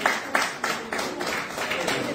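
An audience at a BJP Mahila Morcha nutrition campaign event claps briefly in a quick, regular run of sharp bursts, heard from moderately close in a hall.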